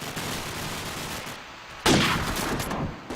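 A single sharp gunshot cracks out in a Call of Duty 4 promod match on Strike, followed by a short ringing tail over quiet in-game ambience.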